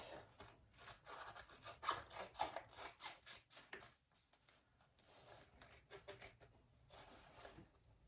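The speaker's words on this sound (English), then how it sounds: "she does tell you to trim the seam allowance" Scissors trimming the seam allowance on a small fabric wristlet, a run of quick dry snips and rustling cuts close by, pausing briefly midway before a few more soft snips.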